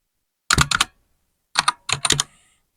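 Quick bursts of keystrokes on a computer keyboard while typing a word into a spreadsheet, two short clusters of close, crisp clicks separated by a brief pause, with no talking.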